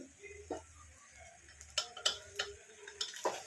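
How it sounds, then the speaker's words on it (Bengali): Dalia with cashews and raisins stirred in a pan, giving a few soft scraping clicks and taps of a spoon against the pan at a moderate distance, with a quiet low hum underneath and no talk. "এবার আমি একটু নাড়িয়ে নেবো ভালো করে"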